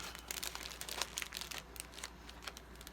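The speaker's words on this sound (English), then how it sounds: "I fold it over and close it up." Paper folded over and closed up while packing happy mail, giving close, soft crinkling and rustling in a busy irregular patter for a few seconds with no talking.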